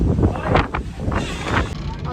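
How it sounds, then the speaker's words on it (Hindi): Strong dust-storm wind roars and buffets against the microphone in gusts, with someone talking over it throughout. "देखो बहुत ज़्यादा खतरनाक वाला हवा चल रहा है, आंधी तूफान आ चुका है भयंकर वाला।"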